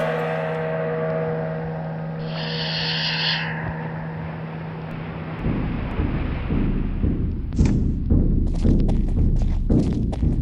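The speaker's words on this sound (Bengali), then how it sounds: "মেঘের গর্জন শোনা যাচ্ছে, তাই না হিসাম?" Thunder in a children's drama rumbles low and heavy, rising out of a quieter background into a deep, rolling roar with a few dull thuds.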